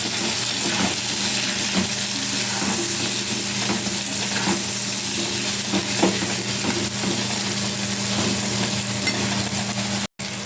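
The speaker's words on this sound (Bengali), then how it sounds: "এবার আমি একসাথে কষতে থাকবো" Fish sautéing in a pan with ground pepper, salt, turmeric, coriander and ginger-cumin paste gives a steady, dense sizzle with scraping stirs throughout, close and loud, with no talking.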